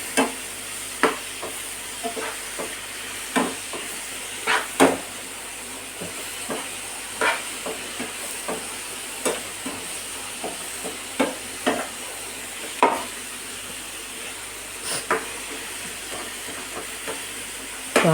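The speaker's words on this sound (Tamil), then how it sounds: "கொஞ்சம் நல்லா நம்ம வதக்கிக்கிடணும்." Vegetables for veg kurma are sautéed in a pan: a steady low sizzle runs throughout while a spatula scrapes and taps the pan in sharp, irregular strokes every second or so, close and fairly clear, with no voices.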